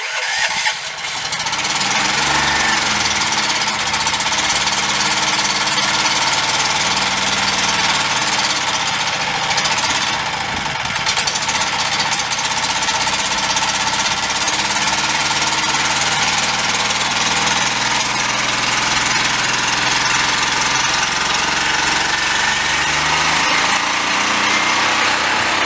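A small engine on a 2020 utility base model runs steadily and loudly for the whole stretch, with a harsh, even mechanical drone and a slight roughness, and no talking over it.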